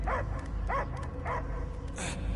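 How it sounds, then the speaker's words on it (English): Dog barks ring out in the Guardians of the Galaxy video game, three evenly spaced yelping barks over a low rumbling game soundtrack, followed by a brief higher cry. "I hear only barking."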